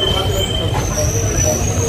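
Inside an Azimganj–Krishnanagar local train in Murshidabad, a loud steady rumble of wheels and carriage fills the space, with thin metallic squeals drawn out above, and the noise ends abruptly.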